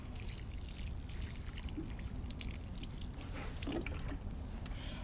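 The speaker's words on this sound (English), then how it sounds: "So I'm going to give it a generous water." Water pours and trickles steadily onto the soil around a tomato plant, with faint drips and splashes, quiet and continuous throughout.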